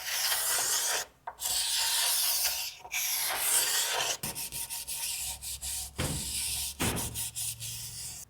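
Wood rasped or sanded off the limb of an osage and bamboo recurve bow: long, steady, close scraping strokes broken by brief pauses, with shorter strokes toward the end.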